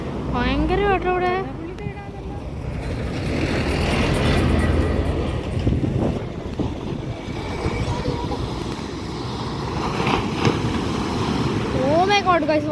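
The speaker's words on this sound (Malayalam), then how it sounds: "വലിയ തിരുമാല കേട്ടോ, ഭയങ്കര വലുത്." Big violent sea waves crash and roar in a constant heavy wash with wind noise, while people talk over it throughout.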